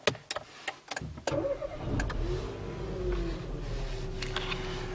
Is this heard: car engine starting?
yes